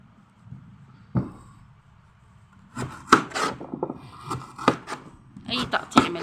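A knife chops food in a series of irregular cuts: one sharp knock, a quiet pause, then clusters of crisp, fairly close strikes and scrapes.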